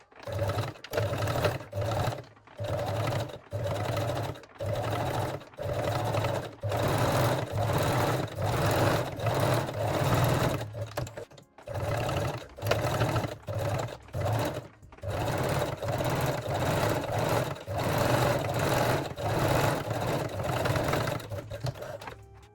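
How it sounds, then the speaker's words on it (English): A sewing machine runs steadily, close and loud, top stitching a straight stitch along the bottom edge of a bikini top, in repeated long bursts broken by brief pauses. "Top stitch the bottom edge with a straight stitch."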